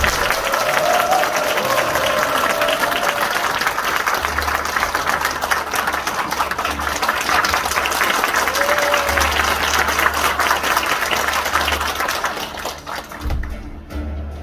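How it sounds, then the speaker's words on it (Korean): A hall audience at a workers' cultural centre in Gumi applauds to welcome a poetry reciter, dense sustained clapping for over ten seconds, with a low hum beneath and the clapping thinning out at the end. "큰 박수로 맞이해주십시오"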